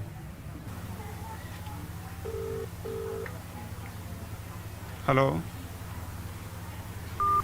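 A phone call rings through as two short ringback tones over a faint line hiss, then the call is answered with a click and a brief spoken greeting before being hung up.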